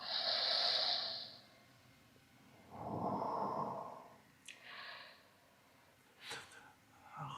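Slow, heavy breaths in and out during a yoga pose, close and fairly quiet, with long airy exhales and a few soft sniffs between them.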